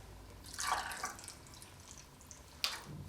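Water is poured onto a powder to make artificial snow, heard as a brief, faint liquid splash and trickle nearby, followed a moment later by a small sharp tap.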